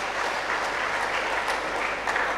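Congregation applauding at a GMIT church service closing a culture month, steady dense clapping from many hands filling the room without pause.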